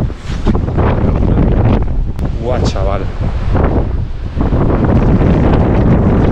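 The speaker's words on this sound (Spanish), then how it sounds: "corre un viento por aquí que como te pongas al borde y venga una bola de viento" Strong wind gusts buffet the microphone with loud, constant roar on an exposed clifftop near a waterfall in the Faroe Islands, while a man exclaims over it.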